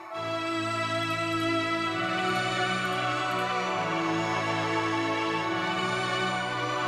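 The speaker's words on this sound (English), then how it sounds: "the high violin legato section" A sampled string section plays a high violin legato line, sustained smooth notes gliding from one pitch to the next, full and steady from start to finish with no voices.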